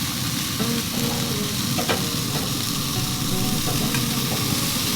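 Yak and ostrich meat sizzling on a grill, a loud, continuous frying hiss with a few soft scrapes and taps, no one talking.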